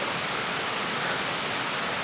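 Winter waterfall in the Penacal countryside of Portugal, a steady, dense rush of falling water heard close and loud without pause.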